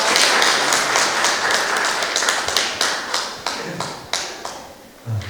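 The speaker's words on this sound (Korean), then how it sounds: "큰 박수로 환영해 주시기 바랍니다" A forum audience at a tea culture festival in Busan claps to welcome a speaker, first dense applause and then a thinning run of separate claps before it stops.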